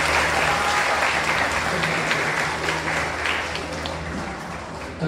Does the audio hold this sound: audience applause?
yes